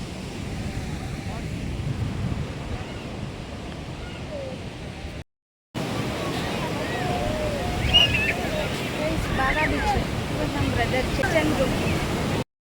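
Waves and surf at Baga beach in North Goa, a continuous close roar of breaking water with wind buffeting the microphone, briefly cut off by a short gap midway before resuming.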